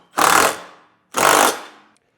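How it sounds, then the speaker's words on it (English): A 1/2-inch grinding bit bites into the steel frame of a 2024 Chevrolet Traverse while holes are opened for a Curt trailer hitch, two loud, close bursts of harsh grinding roughly a second apart, each lasting about half a second. "we've got our grinding bit here. This is a 1/2-inch grinding bit."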